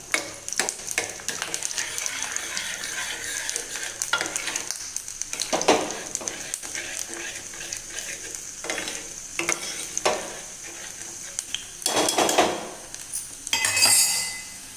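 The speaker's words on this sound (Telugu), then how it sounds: "ఒకసారి పప్పు కలుపుకుందాం." Dal with spinach is stirred in a pan over a sizzling tempering, with a spoon scraping and clinking against the metal in repeated bursts while the frying hiss continues underneath.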